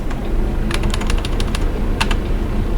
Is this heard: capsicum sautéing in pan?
no